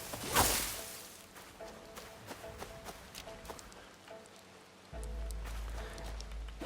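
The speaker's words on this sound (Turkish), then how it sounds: "Gene yağmur başladı." Rain falls in the video game Assassin's Creed Shadows near Amagasaki Castle, a faint patter of drops with scattered light ticks and a low rumble swelling near the end.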